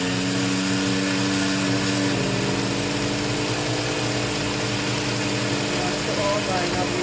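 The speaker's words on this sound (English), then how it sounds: "And now I am going to blend it." A kitchen blender grinds granulated sugar into homemade powdered sugar, running as a steady, loud, continuous motor whir throughout.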